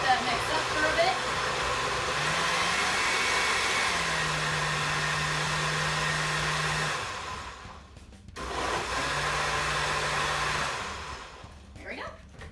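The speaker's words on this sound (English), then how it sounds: "And then I usually hit blend, if that's one of the settings on there, or there might be a smoothie setting." A kitchen blender whirs steadily while mixing a fruit smoothie, its motor pitch shifting between settings, pausing briefly and then running again before winding down.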